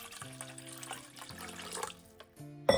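Plenty of water is poured over eight medium-sized pieces of gond katira (tragacanth gum) in a kitchen, giving a soft splashing trickle under steady background music that ends with a brief louder clatter.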